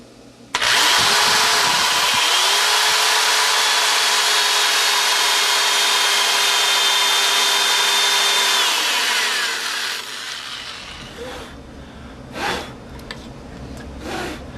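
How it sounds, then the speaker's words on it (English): A loud drill bores continuously through the wooden body of an electric guitar for about nine seconds, its motor pitch shifting slightly, then winds down, followed by a few faint knocks and rustles. "I'm just going to go ahead and drill through"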